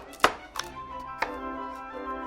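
A kitchen knife chops through carrot sticks on a cutting board, with three distinct crisp knocks spaced unevenly over about two seconds, close and clear with no talking.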